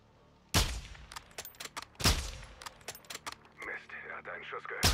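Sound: gunshot in a video game

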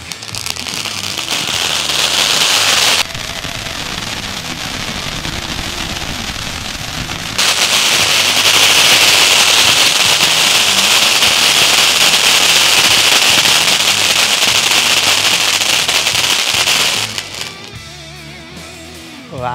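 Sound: Kingster firecrackers from Sivakasi bursting

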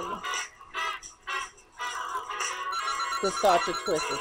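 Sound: phone ringing

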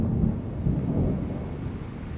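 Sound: thunder from a lightning strike

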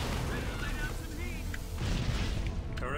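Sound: grenade explosion in the video game Halo Wars

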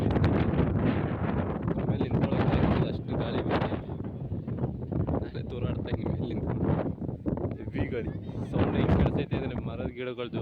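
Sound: heavy wind on a hilltop

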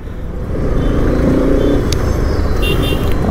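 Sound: Bajaj Pulsar RS 200 motorcycle engine while riding

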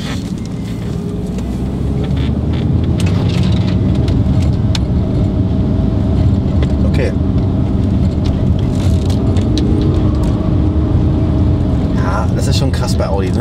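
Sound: Audi A4 Allroad driving through a wet curve

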